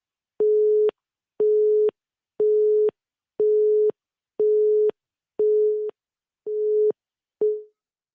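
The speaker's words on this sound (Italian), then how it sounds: "Sento battere le note di un telefono" Repeating telephone busy signal: eight evenly spaced electronic tone pulses about half a second each with short gaps, steady and clear with no talk, the last pulse cut short.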